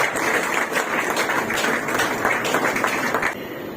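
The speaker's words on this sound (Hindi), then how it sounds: "मैं चाहता हूं कि आप सब लोग तालियों से उनका स्वागत करें।" An audience at a Hindi poetry book event claps to welcome poet Neha, a steady, fairly loud wash of many hands that holds evenly and then drops off slightly near the end.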